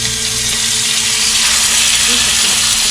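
Pork sizzles in a hot pan with olive oil, giving a loud, steady broadband hiss throughout, with a faint hum underneath.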